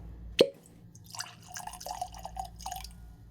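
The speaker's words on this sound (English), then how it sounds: "So let's go and get this Barrell Vantage poured." Barrell Vantage bourbon whiskey poured over ice, opening with a sharp clink, then a light gurgling trickle and scattered drips close by in a quiet room.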